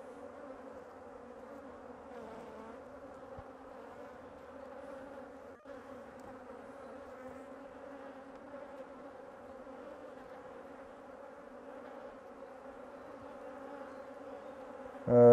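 Bees swarm and buzz steadily around an aggressive beehive during an inspection, a dense, continuous hum close by with no voices, ending in a sudden louder burst.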